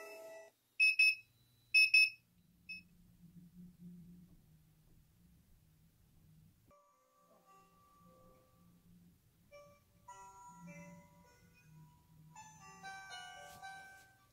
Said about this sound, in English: So this is the joyful heart, natural sound, wake up light, alarm clock.